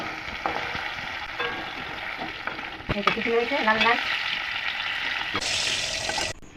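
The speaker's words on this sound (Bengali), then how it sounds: "মাছের মতো মাংসটা ভেজে নিলাম" Chicken pieces fry in a pan with a strong, continuous sizzle, broken by a few clinks and a short squeal partway through. Near and fairly loud, with a brief burst of running water near the end.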